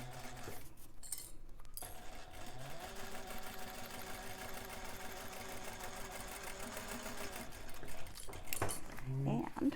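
A sewing machine runs a 3/8-inch seam allowance on a Loule bag, humming steadily for most of the stretch with light clinks, then quickening near the end.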